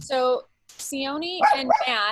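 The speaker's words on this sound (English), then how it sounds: "excuse my dog here." A small dog barks and yips nearby indoors, in short sharp bursts mixed with a person talking during an online meeting.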